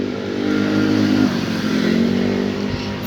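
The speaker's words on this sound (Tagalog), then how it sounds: "kaya saba kayong mga motor" Motorcycles pass noisily on a road, a loud, close engine drone with revving and a shifting pitch as the bikes go by, filling the whole moment without any voices.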